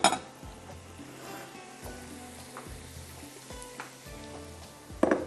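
Hot tempering poured straight over Hyderabadi kadhi sizzles steadily in the pot, bracketed by sharp metallic clinks of the ladle at the start and end, with no talking.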